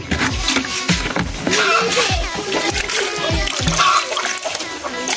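Water splashing and dribbling while a pigeon is washed by hand, a continuous close wet sloshing with voices underneath.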